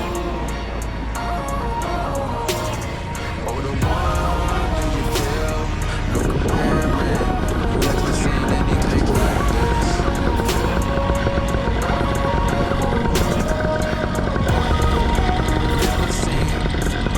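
A paramotor engine drones loud and close throughout a takeoff at an active RAF base, a dense continuous roar that steps up in intensity after a few seconds.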